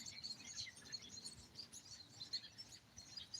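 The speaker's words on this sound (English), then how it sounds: "you can hear the birds?" Birds chirp and tweet outdoors, faint and distant, their calls scattered and overlapping against a soft background hiss with no talking.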